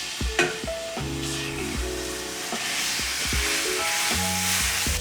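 Minced beef sizzling and frying loudly in a big pan for cottage pie, a steady dense hiss with occasional stirring scrapes, close up.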